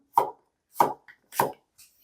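A kitchen knife slices a zucchini into thin 0.3 cm pieces: three crisp, evenly paced chops on a cutting board, close and clear, then a softer fourth cut trailing off.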